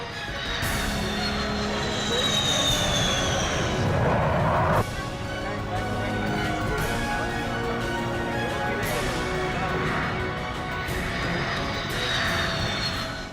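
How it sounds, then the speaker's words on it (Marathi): Indian Air Force aircraft landing and taking off on the Purvanchal Expressway make a loud, continuous engine roar with shifting whining tones, and faint voices sit underneath. "पूर्वांचल एक्सप्रेस वेवर लँडिंग आणि टेक ऑफ"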